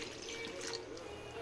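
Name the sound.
tamarind water poured into fish curry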